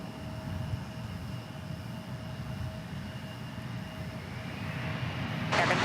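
An Embraer E-jet airliner at DFW Airport sends a steady, distant engine rumble and roar across the field, growing slightly louder toward the end.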